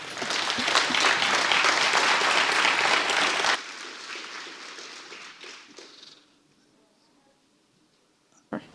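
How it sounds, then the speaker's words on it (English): Loud audience applause at a Symfony conference talk, dense clapping that cuts off abruptly, then a few scattered claps fade into near silence before a brief noise at the end. "can we have a round of applause for Sarah, please?"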